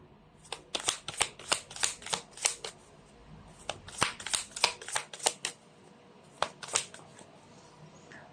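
A deck of tarot cards is shuffled by hand close up, giving two runs of rapid, crisp riffling snaps separated by a short pause, then a few last flicks. No one speaks.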